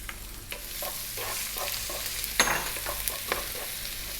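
Garlic and ginger hitting hot corn oil in a wok over maximum heat, sizzling loudly and continuously while a utensil clicks and scrapes against the metal every so often.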